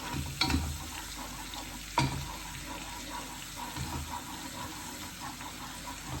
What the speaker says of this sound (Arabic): ونحط على الزبد 3 فصوص ثوم